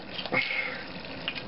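Scotch is poured into a glass in a short, soft trickle of liquid with a faint splash near the start, close and quiet.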